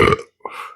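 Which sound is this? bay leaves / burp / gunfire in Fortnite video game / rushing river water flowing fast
burp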